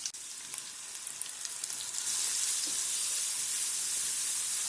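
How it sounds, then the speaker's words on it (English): Masala paste with ginger hits hot oil in a pan and bursts into a loud, steady sizzle that swells after a couple of seconds and holds, close and without talk. "And add in the masala paste."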